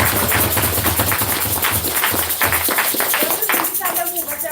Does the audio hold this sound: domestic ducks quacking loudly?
no